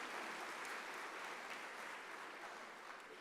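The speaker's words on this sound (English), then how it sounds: "Can we give the Chairperson a warm round of applause?" A warm round of applause for the Chairperson at an anti-corruption day event, a faint, steady wash of many hands clapping from a distance.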